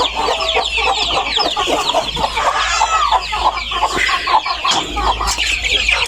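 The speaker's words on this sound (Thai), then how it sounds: "แม่ไก่มันตื่น" A startled mother hen clucks agitatedly on a farm, close and loud, amid other chickens squawking and rustling continuously, with a low steady hum underneath.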